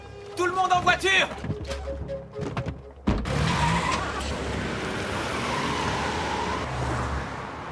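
Cars in an action-movie scene: voices talk over a quiet background at first, then a sudden burst gives way to loud, sustained engine roar and tire skidding that lasts to the end.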